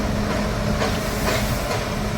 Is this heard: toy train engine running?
yes